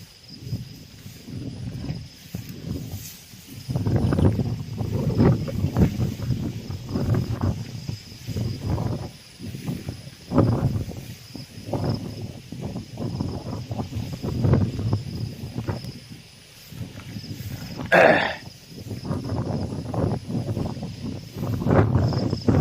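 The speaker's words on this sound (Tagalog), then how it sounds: "Tapos pa rin yung bukso ng hangin" Wind gusts buffet the microphone in rumbling surges that rise and fall over a rice field after a typhoon, with crickets chirping steadily in the background.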